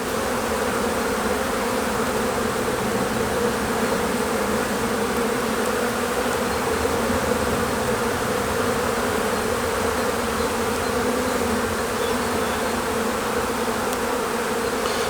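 A healthy honeybee colony drones steadily throughout an open-hive inspection, a dense, continuous buzz of many bees close by with no talking.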